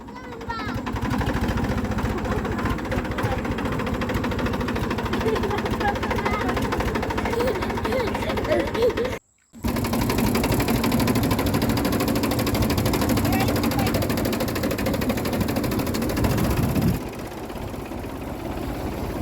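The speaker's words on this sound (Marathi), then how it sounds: "तोपर्यंत आला सचिन ट्रॅक्टर घेऊन" A heavy tractor engine rumbles steadily and close, cutting out briefly near the middle and then continuing, with people talking over it.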